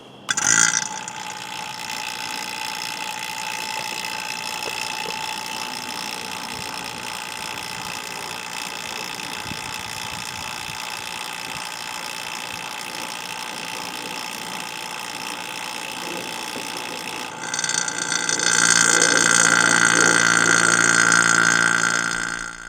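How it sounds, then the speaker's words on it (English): A vacuum pump on a mini-split air conditioner installation drones continuously with a constant hum and buzzing overtones, growing louder and harsher near the end. "I'm going to fire up the pump."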